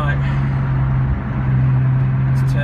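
An R33 Nissan Skyline with 320 horsepower to the rear wheels drives on a rain-soaked road, a steady low engine drone with tyre hiss under someone talking over it.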